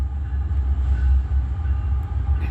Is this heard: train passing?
yes